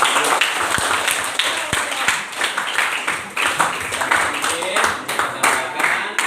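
A crowd applauding steadily at an Indonesian teachers' academic supervision presentation, a dense wash of clapping that holds for several seconds without pause, fairly close and full.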